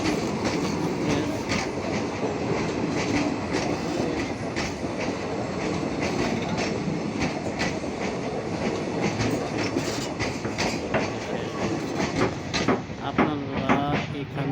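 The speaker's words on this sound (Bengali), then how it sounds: "এই দেখেন ট্রেন দেখেন আপনারা, বিশাল বড় ট্রেন।" Big express train at Majbat railway station in Assam, its wheels clattering in a steady rhythm over the rails up close, with a brief squeal near the end and faint voices behind.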